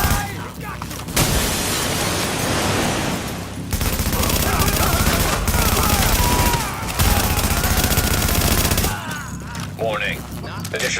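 Sustained automatic gunfire from a firefight in Tom Clancy's The Division, dense fusillades and bursts running almost continuously with brief lulls, loud and close, with game voice chatter mixed underneath.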